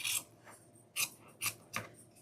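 Scissors cut deco mesh for a snowman wreath on an evergreen base, about four crisp, close snips spaced unevenly in a quiet room.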